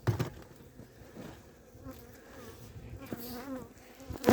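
Honey bees from an opened beehive buzz steadily during a winter check of stores and the queen, a dense close swarm hum with a few louder passes near the end.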